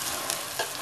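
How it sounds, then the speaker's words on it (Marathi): Cumin seeds and onion sizzle in hot ghee while being stirred in a pan, a steady close frying hiss with soft scraping strokes of stirring, no voices. "त्याच्यामध्ये मी जिरं टाकते आणि कांदाही टाकते। आपण हे छान असं मिक्स करून घेऊया।"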